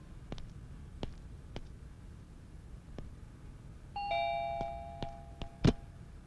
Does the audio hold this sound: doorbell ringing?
yes